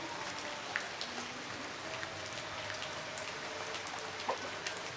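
Steady rain patters on a surface, a continuous even hiss with occasional louder drops, no voices.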